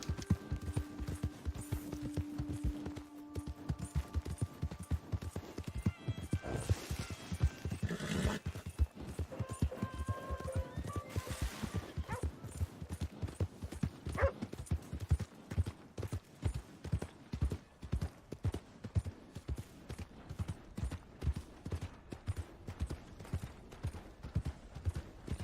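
Rapid hoofbeats clip-clop steadily as a horse trots and gallops in Red Dead Redemption 2, with a brief whinny partway through and some game sounds in the background.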